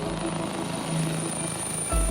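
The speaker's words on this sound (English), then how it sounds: "Rescue services are trying to contain the fire by dumping water from a helicopter." Helicopter rotor drone hums steadily at moderate distance as it dumps water on a fire, with a sharper low thump near the end.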